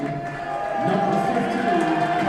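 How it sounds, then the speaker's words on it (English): A high school varsity boys basketball crowd in a gym cheers and applauds as a substitute guard checks in, a sustained, loud roar of mixed voices with announcer talk over it. "Crowd showing their appreciation."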